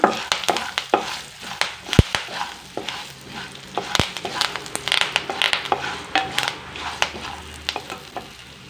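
Turmeric powder and curry leaves stirred in a pan for lemon rice, with a steady sizzle of frying under repeated scraping and clinking strokes of a spoon against the pan, close and clear with no talk.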